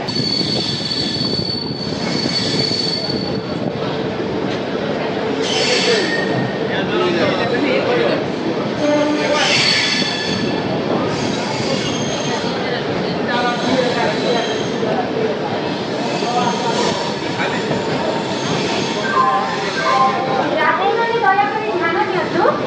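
The Dhauli Express runs at 125 km/h, a sustained rushing rumble of wheels on rail with intermittent high squeals and clatter, steady and loud throughout, with occasional voices faintly mixed in.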